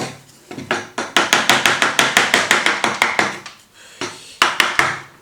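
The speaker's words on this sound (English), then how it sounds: "I'm just going to keep shaping, and I will see where I get after many hours of chiseling." Chisel struck by a mallet while shaping an oak beam in a studio, a close, crisp run of rapid rhythmic knocks with short pauses between bursts.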